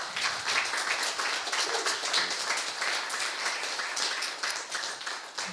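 An audience at an evening conversation event gives a big hand, dense continuous applause holding at an even level for several seconds with no speech over it.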